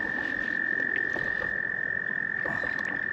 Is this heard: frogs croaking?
yes